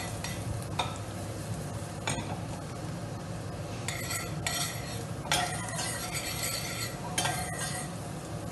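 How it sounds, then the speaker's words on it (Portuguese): Onion fries and caramelizes in a pan, a constant soft sizzle under repeated metallic scrapes and clinks of a utensil stirring against the pan. "a cebola já está a começar a caramelizar"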